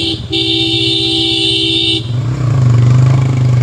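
A vehicle horn blares in one sustained honk lasting about two seconds, followed by a motor revving and rumbling close by.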